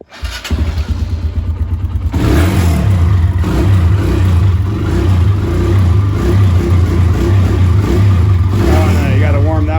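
A 1993 Honda CR500 two-stroke dirt bike in a garage sputters through a few rapid firing pulses, then catches and runs loud and close. The engine revs and burbles unevenly while it warms up, with voices talking over it.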